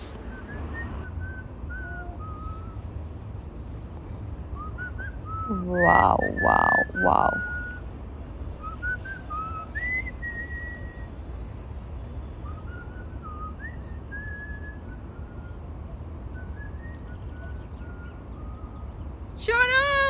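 A person whistles a wavering tune outdoors on a trip in Switzerland, the thin tones drifting up and down across the stretch, briefly interrupted by excited exclamations.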